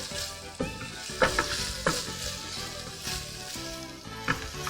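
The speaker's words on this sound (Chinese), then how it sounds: "我们大概炒一下，然后香味散出来之后呢，那个洋葱变得有点半透明的状态" Bacon and onion stir-fry in a pan for a Quiche Lorraine filling, giving a steady, dense sizzle with periodic louder scraping stirs, close and continuous, and no talking.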